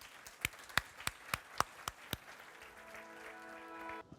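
A few sharp, separate hand claps ring out at a steady beat, fairly faint and echoing, as an audience greets Nitin Gadkari, followed by a sustained tone near the end.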